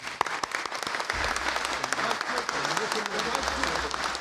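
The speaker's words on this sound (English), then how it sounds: "Let's give them a round of applause." A crowd at a public announcement event in Chicago gives a steady round of applause for members of Congress, a continuous wash of clapping heard from within the room, with a low hum and a voice beneath it.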